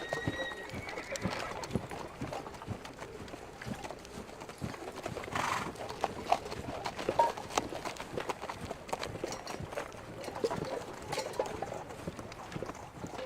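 Galloping horse hooves and a neigh sound amid a busy battlefield din in a Waterloo war video game, moderately loud with continuous background noise.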